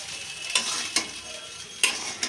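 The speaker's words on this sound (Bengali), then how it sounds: "এই দেখো এখানে সব ভাজার মধ্যে ভাতও দিয়ে দিয়েছে, তারপর নাড়াচাড়া করছে।" Rice tossed with fried potato, egg, nuts and minced meat is stirred in a sizzling pan, with four sharp spatula scrapes cutting through the steady frying hiss.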